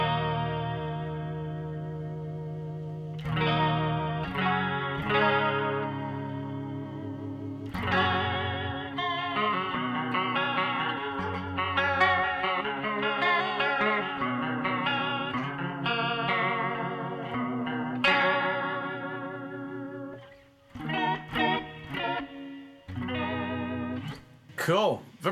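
A clean electric guitar plays through a Roland JC-40 Jazz Chorus amp with its vibrato effect on: strummed chords and picked notes with a wavering, shimmering pitch, close and clear, pausing briefly near the end.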